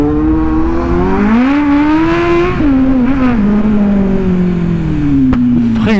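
A Kawasaki Z800 motorcycle engine on a test ride, loud and close, its note climbing as it accelerates, then easing down and wavering at a steady drone with a brief dip midway.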